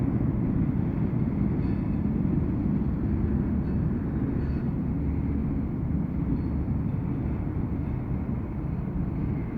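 CSX grain freight train rolling past, a loud continuous low rumble and rattle of cars that holds steady throughout, close to the track with no voices.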